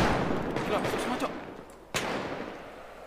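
Gunfire in a GTA V roleplay shootout: a muffled burst of shots under busy game noise, then one sharp, loud crack near the two-second mark, fading into a rumble.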